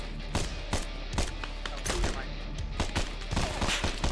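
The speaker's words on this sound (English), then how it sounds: "We're taking 50 cal fire southeast." Heavy .50 caliber machine gun fire in the military shooter Arma: irregular booming bursts and single heavy reports thump out over several seconds, some close and loud, others more distant, with a steady low rumble underneath.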